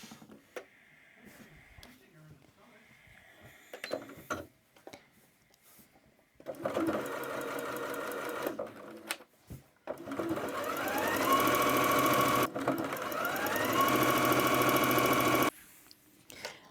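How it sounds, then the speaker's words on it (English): A sewing machine stitches tote bag straps, running in long steady bursts that get louder toward the end. Quiet handling noises and pauses come between the runs. "I'm now going to sew up the straps, so I just need to sew a straight line down each side."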